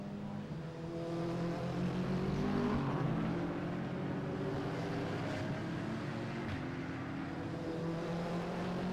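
Race cars in a BARC 2021 circuit race climbing a hill, engines droning loudly and steadily with layered tones as several cars pass in close succession, no voices over the roar.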